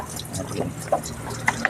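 Plain water poured over a car's brake area to rinse away spilled brake fluid, a soft trickling and splashing with a few faint drips, recorded close up with a brief spoken word.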